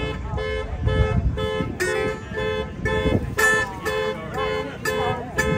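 A car horn honks in a repeated run of short tonal blasts at Court Day, an outdoor festival in Mount Sterling, Kentucky, sounding over dulcimer music and nearby voices.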